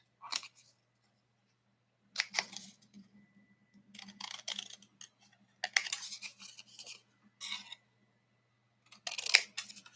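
Scissors cut out paper craft swaps up close, with bursts of crisp snipping and rustling paper separated by short quiet gaps, heard alone without talk.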